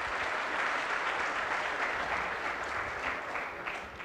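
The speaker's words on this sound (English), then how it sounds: "Let's give them a round of applause." Applause from an audience at a political dialogue event held by the African National Congress in Gauteng, steady and even, heard from a moderate distance without any voices.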